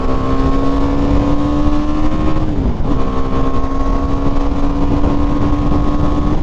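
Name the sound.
BMW G 310 R motorcycle engine at full throttle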